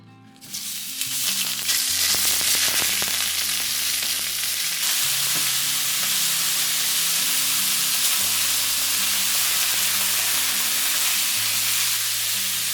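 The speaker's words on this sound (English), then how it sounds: "Spread the oil around, and then add your ground beef." Ground beef hits hot olive oil in a pan and fries with a loud, continuous sizzle that swells quickly and holds steady, with faint stirring under it.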